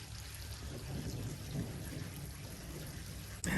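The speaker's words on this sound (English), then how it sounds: "the thunder's coming" Rain falls steadily on a durian farm in Thailand with a low rumble of thunder beneath it, then a sudden loud thump near the end.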